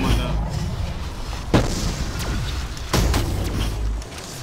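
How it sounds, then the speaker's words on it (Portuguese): Explosive blasts from the Scavenger weapon in a Call of Duty custom zombies map set at a ski resort: two sharp, loud booms about a second and a half apart over steady game noise, with someone talking throughout. "Mano, tem uma explosão dentro do corpo."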